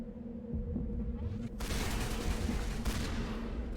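Sniper gunfire in a Mass Effect Legendary Edition firefight, with a loud burst of broadband shot noise cutting in partway through over a steady game hum, followed by a second crack near the end.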